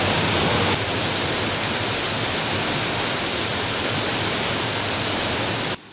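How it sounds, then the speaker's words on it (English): High Force, a powerful 70-foot waterfall in the North Pennines of England, roars as a steady, loud, dense rush of falling water that continues unbroken before cutting off abruptly at the end. "High Force is one of the most powerful and impressive waterfalls in England, with a main fall of 70 feet."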